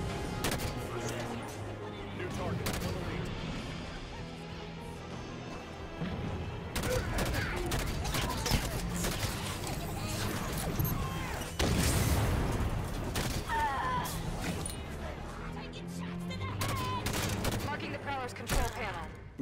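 Gunfire in the Halo 5: Guardians campaign, with sustained bursts of automatic fire and crashes running throughout, dense and continuous, mixed with game sounds and a voice talking at times.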